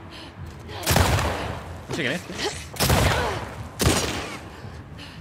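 Gunfire in the video game The Last of Us Part II, four loud sharp shots a second or so apart with echoing tails, while players talk excitedly over and between them.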